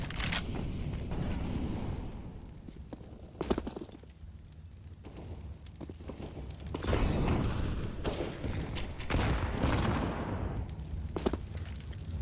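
Several grenades go off in a CS:GO match on the Inferno map, heavy booms and thuds scattered across the clip over a constant busy background of game noise.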